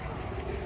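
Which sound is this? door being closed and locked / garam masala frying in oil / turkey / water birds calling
water birds calling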